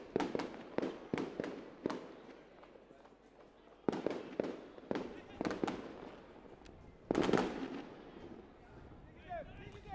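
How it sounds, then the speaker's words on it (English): Fireworks burst at a football match, a rapid series of sharp cracks and bangs in clusters, some close and loud, others fainter, with a commentator's voice running beneath. "We're getting some fireworks there."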